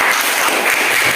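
A short burst of dense clapping from an audience at a university teaching exam presentation, steady and fairly loud with no voices.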